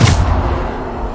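A Bombarda blasting spell goes off in Hogwarts Legacy, a single loud, close burst with a sharp boom at the start that fades into a rumbling tail.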